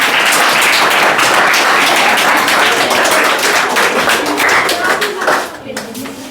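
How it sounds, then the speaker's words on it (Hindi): Children clap their hands in a classroom, a steady, dense patter of many small hands applauding at close range. A teacher's voice comes through over the clapping before it fades near the end. "तालियां बजा रहे हो पीछे से।"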